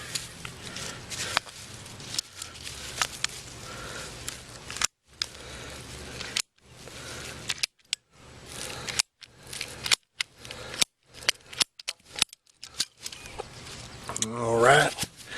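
A length of water pipe is cut off during a water source upgrade: sharp, repeated close cutting snaps and scraping bursts with short gaps between them, plus a brief squeaky scrape near the end.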